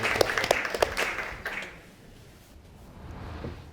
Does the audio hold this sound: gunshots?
no